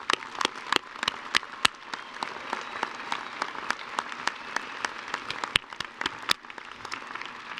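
An audience at a university winter commencement claps for the graduates, a sustained applause with distinct sharp claps standing out from the steady wash.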